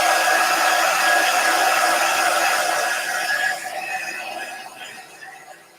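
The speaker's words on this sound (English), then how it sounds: "Now let's make sure this side is dry." A hair dryer blows steadily on painted scrap wood for a gnome craft, a loud continuous whoosh that softens and fades near the end.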